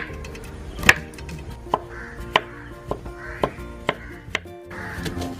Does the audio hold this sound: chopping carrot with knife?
yes